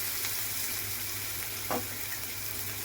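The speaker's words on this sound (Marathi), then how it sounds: "हिरवी मिरची टाकल्यानंतर सर्व आपल्याला असं थोडंसं परतून घ्यायचं आहे" Green chillies sautéing in a pan give a steady, faint sizzle with a brief stirring scrape near the middle, no voices.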